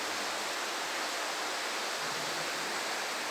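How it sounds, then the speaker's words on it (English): Waterfall curtain pouring inside a cave, heard as a steady, dense broadband rush of falling water that stays constant and close throughout, with no voices. "This is one of many waterfall curtains that we can kayak immediately below"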